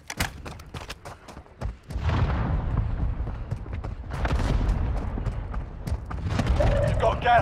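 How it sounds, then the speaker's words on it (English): Mortar strike explosions in the Warzone Mobile video game, a run of heavy booming impacts and rumbling blasts that swell and sustain at loud level after a few sharp bangs, with game radio voices speaking over parts of it. "Mortar strike inbound now."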